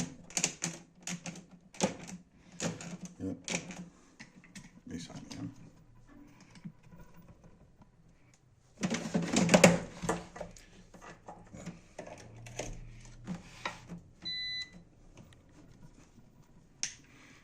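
Air fryer controls being set by hand, a run of sharp plastic button clicks with a short electronic beep near the end, moderately close and with no talking.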